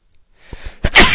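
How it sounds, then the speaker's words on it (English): A single close, loud human sneeze indoors, with a brief inhaled build-up of small catches and breaths before a sharp, bursting release at the end. "The sneezes."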